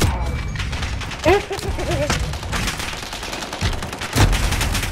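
Rapid bursts of gunfire and thuds from the Modern Warfare video game, dense and loud throughout with a couple of heavier booms, while a voice makes brief sounds over the shooting.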